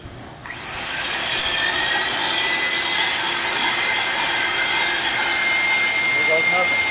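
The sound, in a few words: blower fired up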